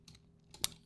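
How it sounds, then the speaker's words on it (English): A computer keyboard gives a few faint, quick key clicks, one sharper tap standing out near the end. "And then you can just type in what you're looking for."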